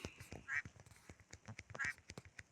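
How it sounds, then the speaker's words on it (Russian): A bird in a Roblox tower obby gives two sharp squawks about a second apart, quack-like and fairly clear among clicks and game noise. "Птица."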